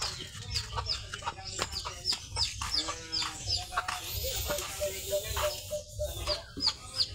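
Several chickens cluck and squawk close by in a yard, with repeated short calls and a rooster-like cry, alongside faint background household noise.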